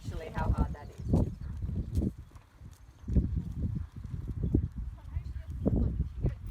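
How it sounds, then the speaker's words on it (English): A horse trotting in a dressage arena during a riding lesson, its hoofbeats coming in a steady clip-clop rhythm under frequent talk from rider and instructor. "I'm trying to trot in a straight line"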